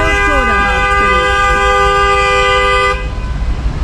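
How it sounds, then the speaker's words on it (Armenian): Car horns blare in a traffic jam, one long sustained loud honk with shorter overlapping toots at the start, then it stops, leaving street noise. "սիգնալով խցանում են բացում, այս մարդու կարծիքով"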